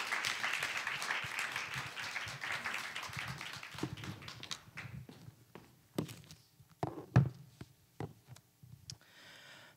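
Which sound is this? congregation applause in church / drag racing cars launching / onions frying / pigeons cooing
congregation applause in church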